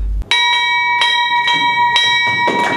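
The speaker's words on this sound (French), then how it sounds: "Une cloche qui sonne." A bright bell strikes repeatedly at a steady pace, about five clear rings with a ringing, overlapping tone.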